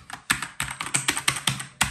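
Fingers type on an iMac keyboard, about nine crisp, clicky keystrokes in an uneven rhythm, close up and fairly loud with no talking.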